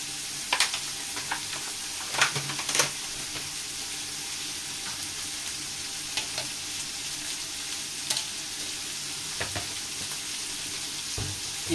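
Smashed burger patties fry in a hot pan for a double smashburger, giving a steady close sizzle with occasional sharper spits and scraping stir sounds, and no talking.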